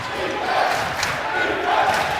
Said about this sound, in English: here comes the crowd, alive once again